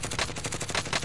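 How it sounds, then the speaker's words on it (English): Rapid video game gunfire rattles in a dense burst of repeated shots, loud and close for about a second, with no voices. "You're getting shot at."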